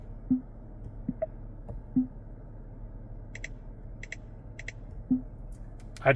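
Soft, sparse clicks from a 2025 Acura MDX touchscreen tap at irregular intervals, with a few faint higher electronic ticks in between, close and quiet against a low hum.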